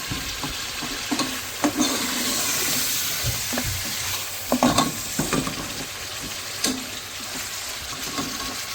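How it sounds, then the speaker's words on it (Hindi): Meat for pulao rice fries in a pot and gets stirred, giving a steady loud sizzle and hiss broken by scattered scraping and clinking from the spoon, with no talking. "उसका मीट भून रही हूँ, अभी तैयार कर रही हूँ उसको।"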